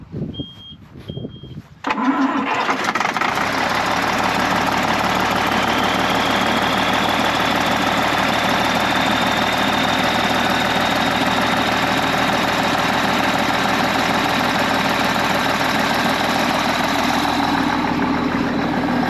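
A few brief beeps and clicks, then an engine cranks and catches, settling into a loud, steady idle with a rough rumble that runs on unbroken.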